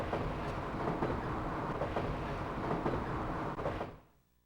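Ghost train rolling along in the PC-FX game Kishin Douji Zenki FX: Vajra Fight, a steady loud rumble and clatter of wheels that runs continuously for about four seconds, then cuts off abruptly into quiet.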